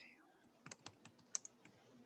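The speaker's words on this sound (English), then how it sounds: "I'm not going to keep typing." Faint, uneven clicks of keys on a computer keyboard while notes are typed, about a dozen light taps in an irregular burst, close but quiet, with no talk over them.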